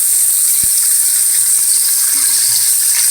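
Chicken pieces for a spicy Korean braised chicken sizzle in a pan over high heat, a loud, steady hiss filling the whole moment with no voices.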